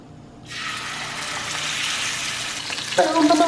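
Pork sears in olive oil in a hot pan, giving a bright, steady sizzle that starts abruptly and holds loud and close, with a brief clatter near the end.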